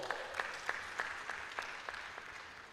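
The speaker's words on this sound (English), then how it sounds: "Round of applause for Paul" A small conference audience gives a faint, sparse round of applause for a speaker, a handful of distinct claps falling in a fairly regular rhythm, distant and quiet throughout.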